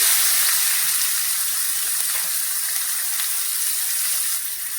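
Chopped onions frying in hot oil for a Bengali-style mutton curry, a bright, continuous crackling sizzle that stays fairly loud throughout and eases slightly toward the end, with no voices.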